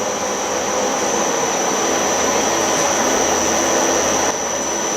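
A power drill spinning at high speed while cutting threads gives a continuous loud whine with a bright high tone, steady and close for the whole stretch, with no speech.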